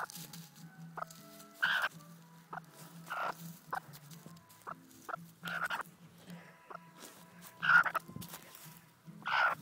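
A broody hen makes a string of low clucks and short throaty calls, spaced irregularly and heard close up in a quiet setting.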